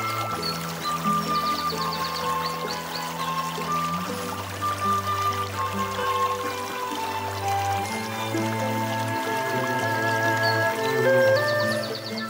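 The clear Majaceite river flows and trickles over rocks near Benamahoma, a steady close babble of water under faint background music.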